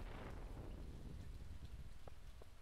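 Steady rain pours in a thunderstorm in the video game Stardew Valley, a continuous, even hiss of falling drops, fairly quiet, with a couple of faint tapping accents near the end.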